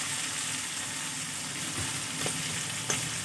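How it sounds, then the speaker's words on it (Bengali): Two bay leaves with whole garam masala (cloves, cinnamon and cardamom) frying in oil for fried rice, a steady close sizzle with a few faint stirring clicks. "একটু ভেজে আমি একসাথে মিশিয়ে নেব।"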